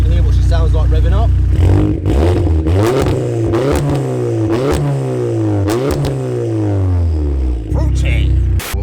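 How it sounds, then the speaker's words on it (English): A 700hp VW Golf R engine is blipped repeatedly, loud and close, each rev rising and falling in sharp swoops over a rumbling idle, with pops between blips and brief talk mixed in. "We'll give the car a couple of little blips as well so you can hear what she sounds like revving up."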